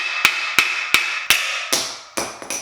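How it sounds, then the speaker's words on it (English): A hammer taps an axle into a BMX wheel hub with seven sharp metallic knocks, evenly spaced at first and then quicker near the end, each ringing briefly, close and alone. "And then you take the hammer"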